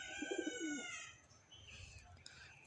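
A female racing pigeon gives a soft, close coo lasting about a second, followed by faint rustling and light background noise.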